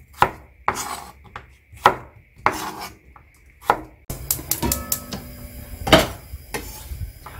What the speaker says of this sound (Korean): 무를 마늘총처럼 좀 썰어주세요